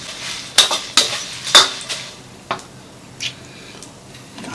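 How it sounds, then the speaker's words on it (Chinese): Sichuan peppercorns and dried chilies are dry-fried in a wok without oil, with several sharp metallic clanks of a utensil against the pan early on, then sparser lighter scrapes and taps, close and alone. "这个花椒和干辣椒不用油， 干炒，炒香为止。"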